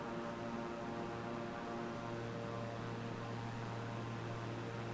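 A Beechcraft in a flight simulator game throttles up and climbs away, a steady drone of engine with tonal hum and broadband rush, rising slightly in pitch partway through, fairly quiet and with no talk.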